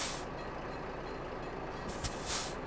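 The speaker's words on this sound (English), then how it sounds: "we even have air brakes." Loud broadband engine rumble with bursts of hissing air brakes from a Chevrolet Tahoe in the video game American Truck Simulator, a sharp release near the end followed by a longer hiss.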